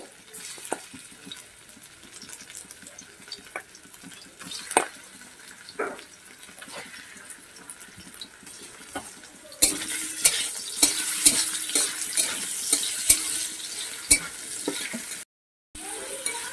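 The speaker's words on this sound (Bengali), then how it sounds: "চিকেনগুলোকে টুকরো টুকরো করে কেটে নিয়েছিলাম, এবার ভেজে নিচ্ছি।" Cut chicken pieces fry in hot oil with a constant sizzle and repeated utensil scrapes and stirs. It grows louder and busier about halfway through, then cuts out briefly near the end.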